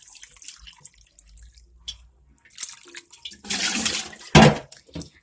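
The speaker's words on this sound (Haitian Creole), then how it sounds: "m'a vider de l'eau." Water is poured out of a pot after washing cow feet, a close splashing gush that swells midway and ends in a louder burst, preceded by drips and quiet handling.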